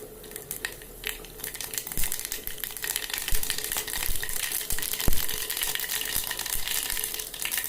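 Mustard seeds crackle and pop in hot oil, a dense sizzle punctuated by sharp individual snaps, close and steady throughout.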